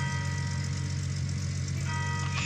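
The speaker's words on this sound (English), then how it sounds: "Shut off the engine because we don't want to waste gas." A truck engine idles in the Gold Mining Simulator video game, a steady low rumble with a continuous hum that holds evenly throughout, close and unbroken.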